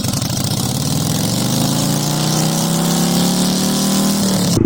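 Honda Grom motorcycle engine idling steadily outdoors in snowy Virginia weather, a loud, close, continuous mechanical drone with a slight rise in pitch near the end and no talking.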